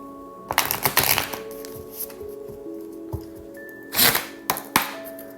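Oracle cards are shuffled by hand for a full moon reading in quick papery riffles and slaps, with bursts near the start and again toward the end and quieter handling between. The sound is close, with no voices.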